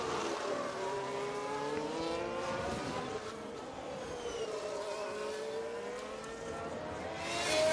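Formula 1 race cars in F1 Manager 22 at the Marina Bay night circuit in Singapore, engines whining and shifting pitch continuously as several cars pass, with a loud steady roar that swells near the end.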